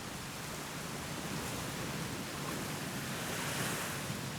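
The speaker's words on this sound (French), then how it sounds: "Malgré la pluie et le vent" Steady wind and rain roar on an open beach during a survival-show endurance challenge, a dense broadband wash like surf and gusts running continuously with no voices.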